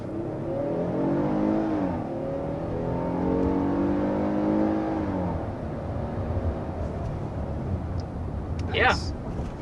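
A 2023 three-row SUV's 8-speed automatic kicks down and the engine surges, its rising drone climbing then settling into a brisk pull from inside the cabin, with a voice talking over it.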